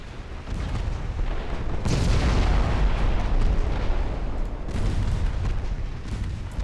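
Torpedo hits explode in a naval warship video game during a Greek campaign. Heavy, continuous low rumbling booms swell twice and fill the whole stretch.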